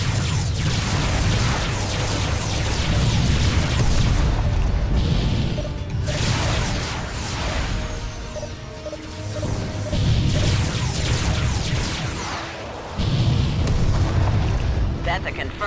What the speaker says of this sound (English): Or you just explode